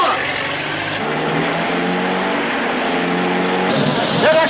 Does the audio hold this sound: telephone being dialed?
no